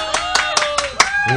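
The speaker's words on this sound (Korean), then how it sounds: "박수 한번 쳐 주세요." An audience at a concert claps in a few short bursts, with talking and a voice running through the whole stretch, so the clapping stays partly under speech.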